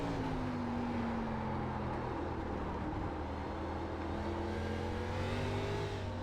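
A race car engine in the iRacing sim drives a steady, continuous drone through a lap of the Charlotte Roval, its pitch rising and easing slightly with throttle, loud and close with no talk over it.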